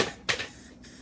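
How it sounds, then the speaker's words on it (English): Short bursts of clear coat paint from a spray can hit the wheels of a vintage mini bike, two quick close hisses separated by a pause, quiet overall. "I'm gonna hit the wheels with clear coat"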